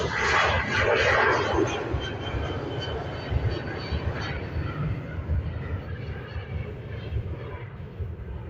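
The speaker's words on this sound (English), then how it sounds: "FR120, this Ryanair flight heading over to London Gatwick. It's a Boeing 737." A Ryanair Boeing 737 heading for London Gatwick roars as a steady, broad jet rumble at an airport, loudest at the start and slowly easing, heard from a distance with faint talk underneath.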